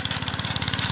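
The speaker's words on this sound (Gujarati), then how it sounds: "આમ ટ્રેક્ટર રાખવા આવ્યા છે." Steady pulsing chug of a tractor engine running on a farm field, loud and close with an even rapid rhythm throughout.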